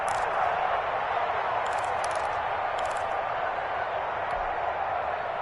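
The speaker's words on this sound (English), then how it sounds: "The crowd getting into it" Steady crowd roar in a PS4 American football game, a continuous broad wash of stadium noise at even level with a few faint whistles and whoops rising above it.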